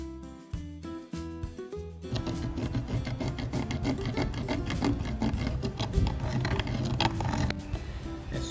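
Sanding and filing around the round sound hole of a low-cost wooden ukulele, a busy steady rasping and rubbing that swells into dense continuous scraping after a few quieter strokes, close and without talk.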